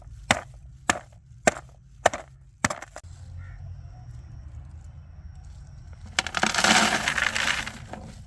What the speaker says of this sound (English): Start by crushing leftover charcoal into small pieces